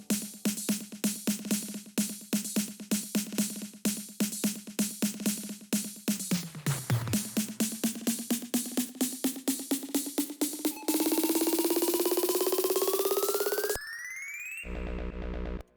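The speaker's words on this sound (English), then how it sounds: "And then our build-up snares." Build-up snare hits in an electronic music track, a rapid steady stream of sharp strikes over a sustained tone that dips, then rises in pitch as the roll intensifies into a dense swelling rush before cutting off abruptly.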